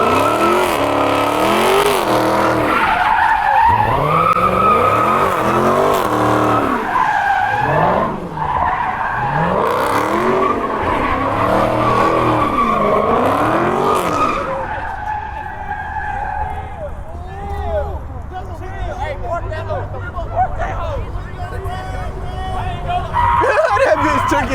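Dodge Hellcat spinning its wheels at a street takeover in Houston, loud sustained engine roar and swooping tire squeal for about fifteen seconds, then fading into crowd chatter with distant revving, voices shouting over it throughout.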